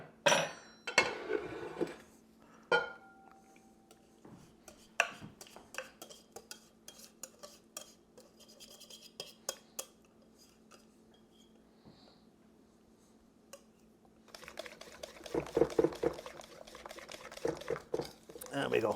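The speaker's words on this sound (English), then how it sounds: "so I'm just going to put this into a bigger bowl" Crumpet batter is poured and scraped from one bowl into a bigger one: a spatula knocks and scrapes against the bowls with wet, sloppy sounds, near and fairly quiet, busier toward the end.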